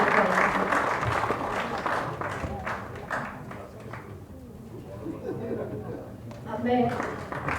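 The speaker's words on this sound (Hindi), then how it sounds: "जोरदार तालियां हो जाए माननीय मंत्री जी के लिए" Audience applause for a minister at an Ayurveda conference event in India, steady clapping that swells and fades over several seconds with some overlapping voices.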